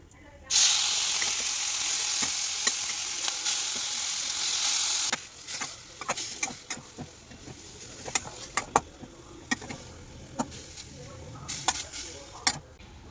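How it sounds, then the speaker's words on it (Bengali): Panch phoron spices and mashed radish dropped into hot oil set off a loud, dense sizzle that holds for several seconds, then settles into quieter frying with scattered sharp clicks and spoon scrapes close by. "তেলটা গরম হয়ে গেছে, আমি ওই যে পাঁচ ফোড়নটা রেখেছিলাম সেটা ফোড়ন দিয়ে দিলাম।"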